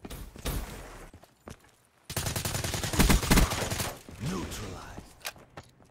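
Bursts of gunfire from a Call of Duty multiplayer match, loud and dense, with rapid shots clustered in the middle and talk and game sounds around them.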